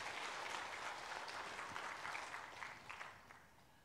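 A church congregation applauds the choir during a Sunday service, a sustained burst of clapping that fades toward the end.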